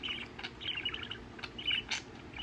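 Pet budgie chirping indoors, a quick run of bright, high tweets in short bursts, faint and close, with no talking over it.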